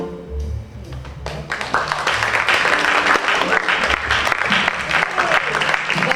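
An audience at a school play reading breaks into applause, starting thin and swelling into dense, loud clapping that keeps going, with some voices mixed in.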